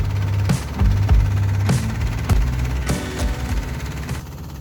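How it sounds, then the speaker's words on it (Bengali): Engine-powered boat on the Padma River near the Padma Bridge, its motor chugging loudly up close with a low, uneven throb and several heavier knocks and thumps over the running engine. "লাঞ্চ শেষে আমরা ইঞ্জিন চালিত নৌকায় করে পদ্মা ব্রিজের খুব কাছাকাছি যাচ্ছি।"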